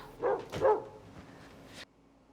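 A dog barks twice in a film scene, the two close, moderately loud yelps followed by a quieter tail of room sound before it cuts off.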